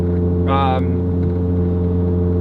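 A tuned turbocharged car with a TPC turbo kit idles with a loud, steady drone that fills the whole stretch, a short higher-pitched whine rising briefly over it.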